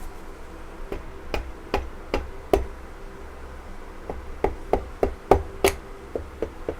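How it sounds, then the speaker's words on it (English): Sharp knocks as a stick taps a piston down into a VW engine block with a ring clamp, about a dozen irregular raps, loud and close, bunching faster toward the end. "Piston in, my magic stick, just tap around"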